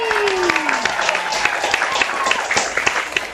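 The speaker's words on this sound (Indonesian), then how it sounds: "Tepuk tangan untuk Cah Muto." Scattered clapping for a chef on a culinary show, with sparse, irregular claps under talk and a falling tone at the start.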